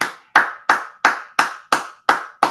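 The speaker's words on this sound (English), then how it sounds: "Let's give a round of applause." Seven evenly spaced claps ring out sharp and loud, a slow steady rhythm from a single pair of hands rather than a crowd.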